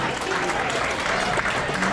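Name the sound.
audience clapping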